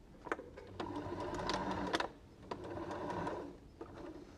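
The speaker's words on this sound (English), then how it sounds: "I'm going to sew all the way around here" A sewing machine stitching around a stretch-fabric dinosaur taggy runs in two steady whirring bursts with short pauses and clicks between, close and fairly quiet with no talk.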